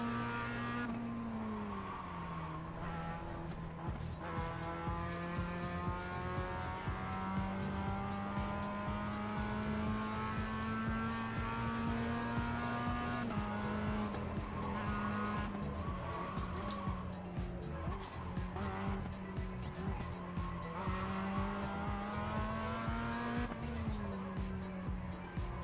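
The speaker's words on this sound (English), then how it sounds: "Maybe let it over rev there a bit." Race car engine in iRacing, revving high and steady and holding near the limiter in a continuous harmonic whine, with pitch wavering slightly and faint tire noise underneath.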